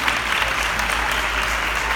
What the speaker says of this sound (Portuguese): dê uma salva de palmas ao Senhor Jesus pela vida dela